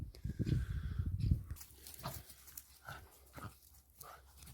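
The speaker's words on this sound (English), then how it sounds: "Dogs are having fun." Dogs play together outdoors in a garden, giving close growly panting and huffing at first, then scattered yips and whimpers with a quieter stretch between.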